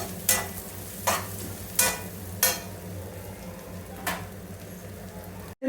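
Onions frying in oil in a pan for egg biryani, a steady low sizzle broken by four or five sharp scraping stir strokes, close and alone with no talking.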